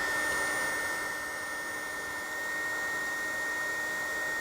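A heat gun set to level 2 warms up to shrink a solder seal connector, a steady, loud blowing whoosh with a faint high whine running throughout, with no voices.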